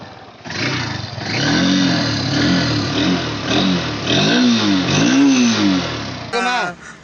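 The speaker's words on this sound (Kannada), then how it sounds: "ನೋಡ್ತಿದ್ದೀರಾ RPM ರೇವ್" A Honda Robot-styled BS4 motorcycle with a dual-outlet exhaust revs up loudly and close, its engine rising and falling in several swelling pulls before a brief drop at the end.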